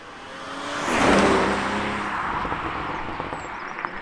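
A 2020 Toyota Supra with a 340-horsepower engine swells up as the throttle is feathered, the engine note rising to a loud peak, then settling into a rougher rumble with tire noise.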